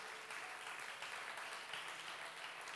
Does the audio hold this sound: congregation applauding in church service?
yes